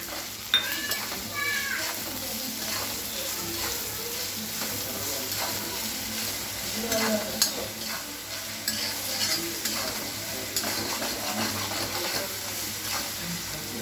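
Chillies stir-fried in a pan for mirchi lonch, a quick chilli pickle, with steady sizzling and repeated scraping stir strokes throughout, at close range and with no voices.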